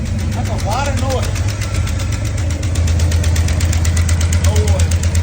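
Car engine idling with a rapid rhythmic knocking or ticking while running with no oil pressure, loud and close, with people talking over it.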